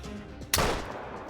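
A single loud rifle shot cracks out at a plains bison in theHunter Call of the Wild, in the Yukon Valley, with a sharp report followed by a lingering rumbling echo.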